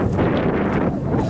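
Cold wind buffeting a microphone outdoors during a Halifax snow storm: a steady, loud, low roaring rumble that fills the whole moment without a break, and no voices are heard.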